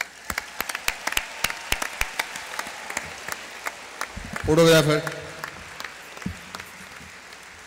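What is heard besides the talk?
audience applause for a woman on stage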